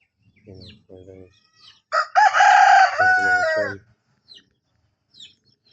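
A Boston Cross rooster crows once, loud and close, between short clucking bursts, with faint bird calls in the quiet after.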